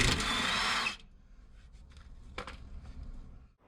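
A power tool buzzes off bolts on a truck frame during a winch bumper install, loud and close for about a second before cutting out, followed by quieter clanks and shop noise.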